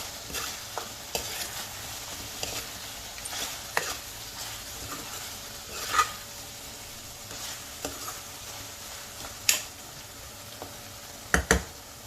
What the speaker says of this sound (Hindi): अब इसमें ये टिक्कियाँ भी ऐड कर देंगे, इसे भी चला देंगे